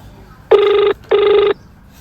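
A telephone rings twice in quick succession, each ring a loud, steady electronic tone lasting under half a second, with a short gap between and no voices over it.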